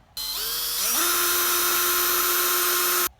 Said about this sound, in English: now we can get the drill and go for it